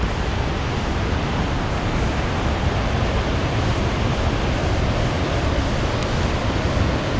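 Steady, dense roar of La Paila waterfall in Florián, Colombia, carrying muddy water, a continuous broadband rush filling the whole scene with no pauses.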